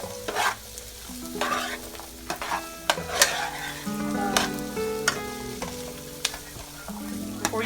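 Chopped fresh asparagus sautéing in butter in a pan, with repeated scraping stirs and clinks over a steady sizzle, close and moderately loud with no talking.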